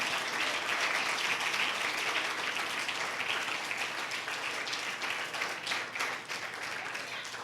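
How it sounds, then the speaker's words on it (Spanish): Sustained applause from a church congregation during a worship service, many hands clapping steadily at moderate volume and tapering slightly toward the end. "Dele fuerte aplauso al Señor."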